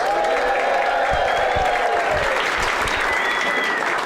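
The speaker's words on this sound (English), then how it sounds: "let's offer them a round of applause." A loud crowd applauds and cheers for a community theater cast, with dense clapping throughout and a few whoops and shouted voices rising above it.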